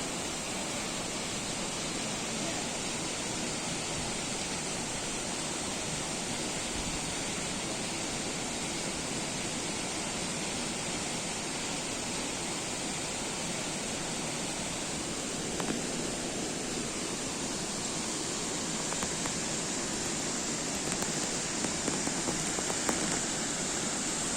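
Jägala waterfall in Estonia in March roars steadily as a dense, broadband rush of falling water, loud and unbroken throughout with no voices.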